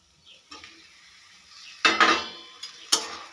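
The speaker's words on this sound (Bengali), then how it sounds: "এবার আমি ভেজে রাখা পটলগুলো দিয়ে দেবো" Pre-fried pointed gourd (potol) pieces drop into a pan of spices sautéing in oil, making quick sizzling bursts and clattering knocks in two or three close clusters over a low background hiss.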